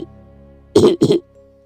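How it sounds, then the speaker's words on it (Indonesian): Two harsh coughs in quick succession, close and loud, within a horror story narration, ending in quiet. "suara batuk itu muncul kembali"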